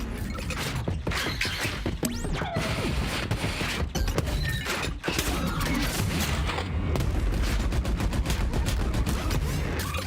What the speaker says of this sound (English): Deploy Pilata turret that fires machine gun at nearby enemies